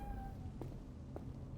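A cat meows in the video game Cyberpunk 2077, two short, faint mews about half a second apart over a low background hum.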